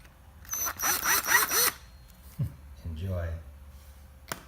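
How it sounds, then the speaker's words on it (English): A power drill bores holes for mounting a pedal set onto a 1968 Mustang pedal assembly, giving about four short whirring bursts up close, followed by a softer mechanical whir and a sharp click. "drill away"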